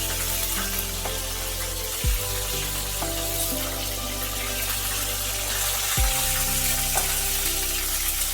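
Bitter gourd slices fry in leftover oil, a steady close sizzle with crackling throughout, broken twice by short clatters of stirring or pan contact.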